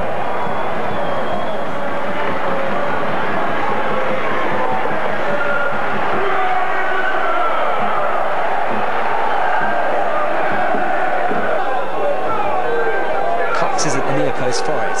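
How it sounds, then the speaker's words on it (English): Crewe Alexandra fans roar at a football match against Burnley as a substitute's goal goes in, a dense, sustained crowd cheer with whoops and chatter holding steady throughout. "Rodney Jack, the substitute, has finally given the Crewe fans something to cheer about."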